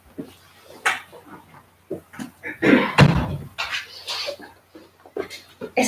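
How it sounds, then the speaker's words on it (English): A door thuds shut in the middle of a short stretch of talk, a single fairly loud bang with some rattle, while people speak before and after it indoors. "let me shut this door"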